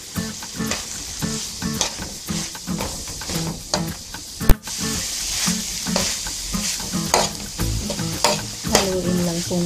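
Beef lumpia filling being stirred in a sizzling pan, with repeated scraping strokes of a utensil against the metal over a constant frying hiss and one sharp knock midway.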